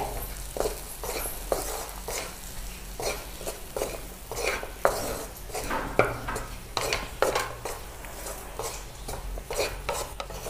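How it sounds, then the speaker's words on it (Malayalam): A spoon scrapes and stirs chili powder in a hot pan for a Kerala chammanthi, with repeated rhythmic scraping strokes and light clinks, close and steady, no voices. "ഇതൊന്ന് നന്നായിട്ട് ഇളക്കി യോജിപ്പിക്കാവേ"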